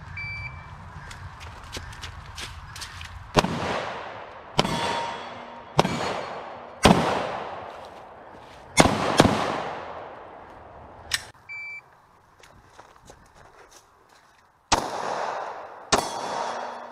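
Pistol shots ring out during IDPA-style shooting practice: about nine sharp, loud cracks spaced unevenly, a couple fired in quick pairs, each with a short ringing decay, plus a faint electronic beep early on.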